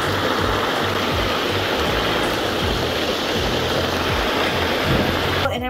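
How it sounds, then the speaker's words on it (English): A waterfall in Colombia roars close and loud, a dense, continuous wash of falling water, with brief low murmurs of voices underneath. "I need a proper waterfall."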